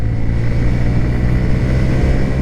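A Honda CB 125 Hornet motorcycle accelerating hard on a top speed run, its engine droning loud and steady with a constant low hum throughout, close up with no talk.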